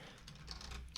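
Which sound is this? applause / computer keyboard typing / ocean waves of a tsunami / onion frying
computer keyboard typing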